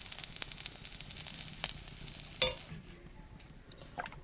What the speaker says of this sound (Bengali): দেখো, আলুগুলোও কিন্তু এখানে ভাজা হয়ে গেছে, হালকা কিন্তু গায়ে কালার চলে এসেছে।